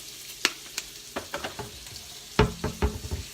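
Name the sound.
bacon frying in a pan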